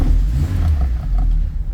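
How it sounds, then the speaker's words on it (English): A Volkswagen Golf MK2 GTI engine fires up and settles into a deep, steady rumble, loud and close, with no other sounds. "And when you start the car,"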